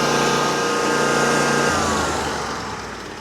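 A tractor engine runs with a steady, loud mechanical drone close by, its pitch shifting and the sound gradually easing off toward the end.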